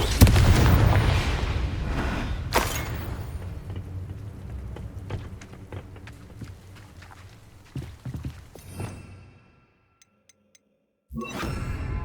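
A Confringo spell goes off in the video game Hogwarts Legacy: a loud, deep blast opens and fades into rumbling debris and scattered clatter, then a brief silence before more game sound returns.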